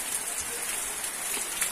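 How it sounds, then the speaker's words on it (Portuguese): Steady rain falls over farmland in the Brazilian sertão, a dense, even hiss of drops that carries unbroken for the whole stretch, with no one talking. "Graças a Deus, chuva"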